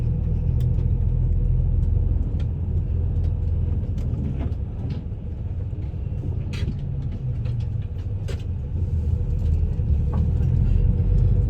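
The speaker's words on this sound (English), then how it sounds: "the driver will enter the inner city from the tunnel in the front of us" A car drives through a tunnel in the wide Xi'an city wall, about 12 meters thick, into the inner city. A steady, loud engine and road rumble echoes inside with faint clicks and no talk.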